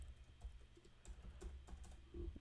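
Faint computer keyboard typing in a coding session, scattered soft keystrokes in short irregular bursts under a steady low background hum.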